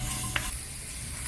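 Heart vegetables and turmeric sizzle in a hot pan as the heat is turned up, a steady close frying hiss with a brief clatter of stirring near the start.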